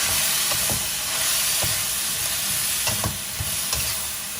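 Cabbage stir-fried with chicken giblets and red chilies over high heat in a hot pan, a loud continuous sizzle and hiss broken by scraping and tossing knocks from the spatula.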